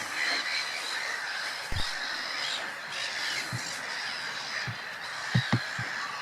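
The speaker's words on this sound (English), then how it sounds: "The Barn Owl." A barn owl gives drawn-out, hissing screeches that run almost continuously at moderate loudness, with a few short knocks and thumps scattered through the background.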